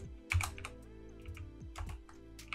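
Keys clatter on a computer keyboard in a quick, soft burst of typing, heard close and quiet over faint steady background music with no one speaking.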